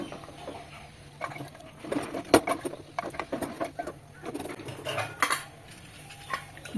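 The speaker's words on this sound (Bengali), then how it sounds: "প্রেশারের ঢাকনা লাগিয়ে দেব আর এই জলের সঙ্গে সমস্ত মশলা মটনকে মিশিয়ে নেব" Metal clinks and scrapes come from a pressure cooker pot as its lid is fitted and mutton is mixed with water and spices, with irregular close clatters against a quiet kitchen background.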